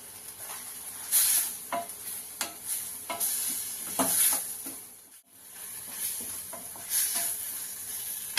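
Curry leaves and coriander hit hot oil in a pan for a tomato onion roti pachadi, crackling and sizzling close up while a spoon scrapes and stirs in repeated strokes.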